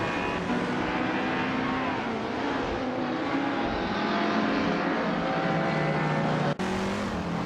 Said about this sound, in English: Naoga 77 is driving in 1966 Shelby GT 5050